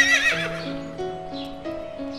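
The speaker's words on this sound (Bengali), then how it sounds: "পক্ষীরাজ ঘোড়া" Cartoon neigh of a winged horse from a Bengali children's story: a bright, wavering whinny opening loud, then trailing off into sustained tonal notes over a soft musical bed.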